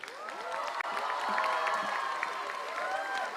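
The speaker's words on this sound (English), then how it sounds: "You heard all the women screaming?" A crowd of women at a research conference cheers and screams at full volume, with rising whoops and shrieks over steady, dense crowd noise.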